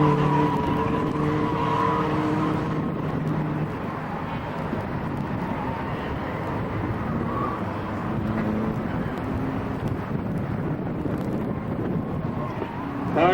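Autocross car running the course at an annual Beretta gathering, its engine roaring continuously with tire skids and wind buffeting, loud and sustained across the whole run.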